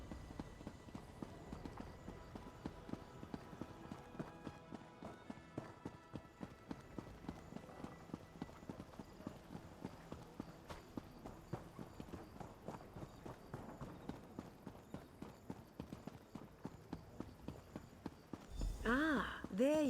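A blue horse in The Elder Scrolls Online walks with steady, even clip-clopping hooves throughout, under game music, and a voice speaks near the end.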